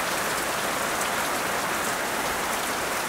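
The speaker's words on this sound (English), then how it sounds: "I saw the rain coming towards me." Rain falls heavily around a sheltered onsen, a dense, even patter and hiss that stays close and loud throughout.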